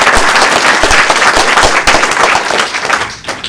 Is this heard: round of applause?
yes